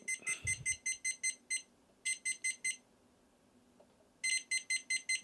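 Rapid electronic beeping from an Alloyman 360-degree laser level that is not quite level, in three bursts of quick high-pitched pulses separated by short pauses, fairly loud against a quiet room.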